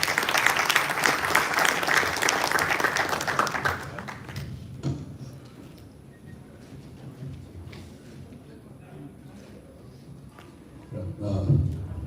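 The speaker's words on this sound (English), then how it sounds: "Can we have a round of applause for her?" Audience applause fills a university ceremony hall for an official being welcomed, a dense round of clapping for about four seconds that then fades out, leaving quiet room noise and a brief burst near the end.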